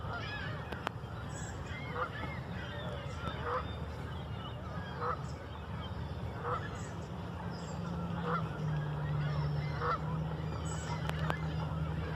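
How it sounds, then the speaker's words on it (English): Geese honk repeatedly at moderate distance as flocks settle in for evening roosting at a lakeside park. The calls are spaced every second or so over a steady outdoor rumble. "a lot of birds had come in for their evening roosting"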